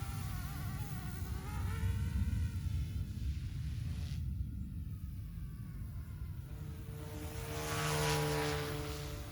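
OMPHOBBY M2 Explore RC helicopter hovering, its thin high whine of rotors and tail motor buzzing steadily at moderate distance, rising and falling slightly as it flies.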